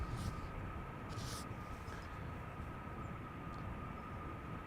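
A 14-year-old airliner, first flown in 2011, roars steadily at Amsterdam Schiphol Airport, a broad, constant engine rumble with a thin whine running through it and no voices.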